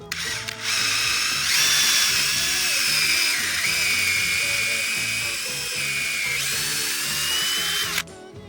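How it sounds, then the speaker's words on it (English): A power drill with a 5/16 bit whines steadily as it bores upward into a maple tree trunk, rising and shifting pitch under load for several seconds before stopping abruptly. "we're gonna drill our hole slightly facing upwards with a 5/16 bit"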